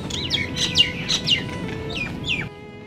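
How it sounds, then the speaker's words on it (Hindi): Birds in Mehrauli Archaeological Park in Delhi, including koels, give a quick run of bright, sharp chirping calls over a soft outdoor background for about two and a half seconds before falling quiet. "आप चिड़ियों की, कोयल की, अन्य पक्षियों की आवाज़ें सुनिए"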